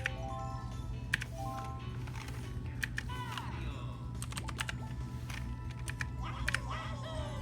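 Computer keyboard typing used to control a racing game through keyboard-only joystick emulation in the Dolphin emulator, with continuous rapid key clicks over a steady background hum and some faint game sounds.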